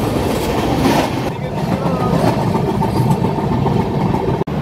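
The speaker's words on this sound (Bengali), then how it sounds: "ব্রিজটাতে ট্রেনটা খুবই স্পিডে পার হচ্ছে," Coromandel Express train speeding across a bridge, a steady loud rumble of wheels and carriages filling the whole stretch, with a brief sharp dropout near the end.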